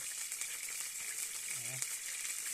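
Shawarma sizzles in a frying pan at a frontline position, a steady hissing fry that holds throughout. A short voice murmur breaks in partway.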